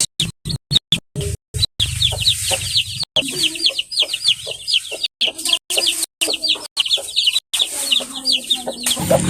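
Hen with a brood of eleven newly hatched chicks, steady clucking mixed with a dense chorus of high, rapid peeping from the chicks, close and continuous throughout.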